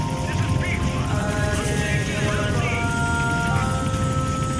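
A helicopter in the video game Metal Gear Solid 5 gives off a loud, steady rotor drone with a dense, churning roar that holds constant throughout.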